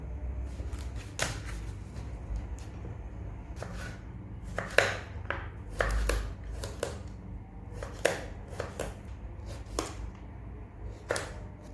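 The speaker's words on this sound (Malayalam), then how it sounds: "ഇതിനെ ചെറിയ ചെറിയ പീസസ് ആക്കിയിട്ട് കട്ട് ചെയ്തെടുക്കാം" A knife cuts bottle gourd into small pieces on a board, with sharp, irregular chops spaced a second or so apart at close range over a low background hum, and no voice.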